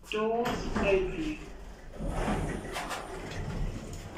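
Modernised Kone M Series lift doors slide open in a department store, a soft rumbling glide following a short electronic chime, with a recorded voice announcement heard over the sound.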